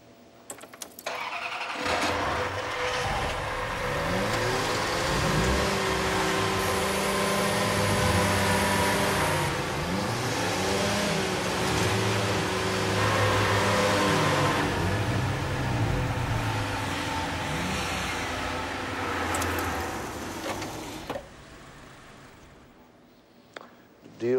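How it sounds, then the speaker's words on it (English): Several car engines start and rev together, a dense close roar of mid-pitched engines with rising and falling revs sustained for about twenty seconds before cutting off abruptly. "everybody start your engines"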